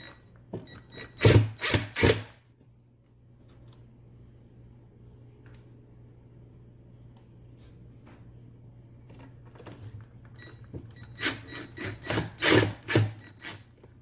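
H6 screws driven by hand under firm pressure into a brace with no pre-drilled holes; two clusters of close, loud creaking, rasping bursts, each lasting about a second, separated by a long quiet stretch of low background hum.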